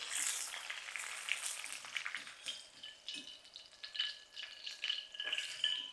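Coriander crisps in hot oil in a pan for peanut garlic chutney, a soft crackling sizzle with scattered pops and stirring scrapes, fairly quiet and close with no talking.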